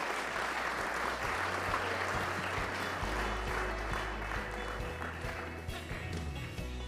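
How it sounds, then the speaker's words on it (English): Steady, sustained audience applause filling an awards evening hall, dense clapping continuing for several seconds with a low hum beneath. "Big round of applause to them as well, please."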